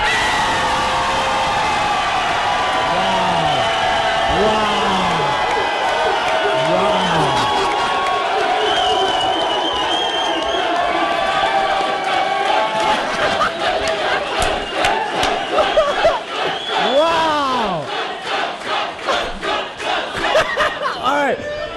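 A convention crowd at Dragon*Con cheers and chants for the Red Skeleton, a loud, sustained roar of many voices with rising whoops, building into rhythmic clapping and shouting toward the end.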